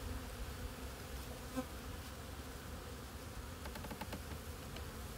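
Dense, steady buzzing of many honey bees, a continuous droning hum close by with no other sounds standing out.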